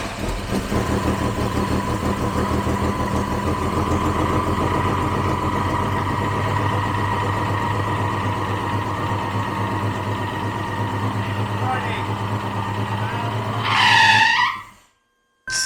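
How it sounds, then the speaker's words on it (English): A 1975 Jaguar XJ12 Coupe with a modified exhaust idles and revs in a long steady rumble that builds and holds, ending in a sharp squealing flare before cutting off abruptly. "It definitely has a modified exhaust."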